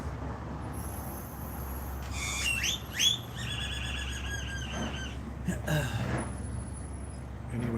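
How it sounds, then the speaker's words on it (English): Outdoors in Las Vegas, a bird gives a few sharp, rising chirps and squeals over steady low traffic rumble, with a couple of brief calls close together and a fainter one later. "That's why that bird is making that noise"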